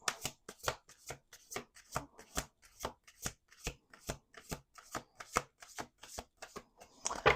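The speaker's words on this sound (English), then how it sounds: "Let's do 2 more shuffles." A deck of playing cards being riffle-shuffled over and over, crisp rapid bursts of flicking and snapping repeating in a steady rhythm, close and fairly quiet, with no talking.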